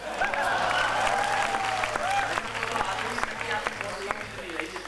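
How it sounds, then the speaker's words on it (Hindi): Steady applause from an audience at a Hindi poetry recital, dense and continuous for the whole stretch, with a voice briefly audible through the clapping. "तुम भी ताली बजाओ"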